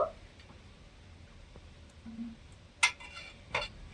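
A lid comes off a pan of steaming semolina pitha with two sharp metallic clinks near the end, over a quiet hiss and faint kitchen ticks.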